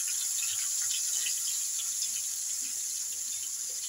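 Poa fish frying in hot oil, a steady bright hiss and crackle of sizzling with faint popping throughout, close and continuous, no voices.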